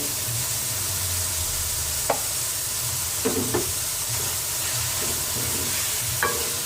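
Mutton mince frying in a pan with tomatoes and spices, a continuous hissing sizzle with occasional spatula clicks and scrapes, over a low hum.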